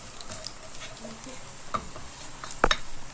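Onion frying in a pan while being stirred, a soft steady sizzle with scattered light scrapes and one sharp utensil clink near the end.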